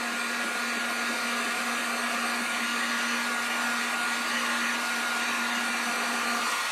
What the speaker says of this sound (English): I'm just taking the heat gun, low heat, and just running over this real quick with the heat gun.